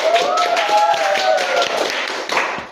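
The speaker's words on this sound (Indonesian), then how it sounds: "Wih, tepuk tangan dulu dong." Brief applause from an audience during an Indonesian talk-show style event, a short burst of clapping over continuous speech-like voices and a tonal background, moderately loud and close.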